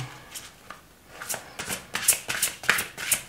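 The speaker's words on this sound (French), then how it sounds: "On va tirer 3 cartes." Oracle cards shuffled by hand before a three-card draw: a close, crisp series of riffling swishes and flicks repeating in quick bursts, alone without talk.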